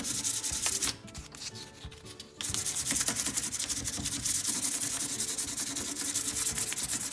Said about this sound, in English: it even sands past the stain on the wood, and it even adds more dimension to it.